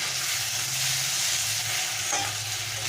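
Ginger and garlic paste stirred into hot oil for a pomfret curry, a steady close sizzle with a soft scrape of the spoon near the end, no voices.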